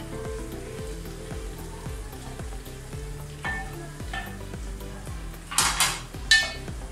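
Sugar and ghee sizzling in a pan, a steady close hiss with regular rhythmic scrapes of stirring and a few louder sputtering bursts toward the end, with no voices.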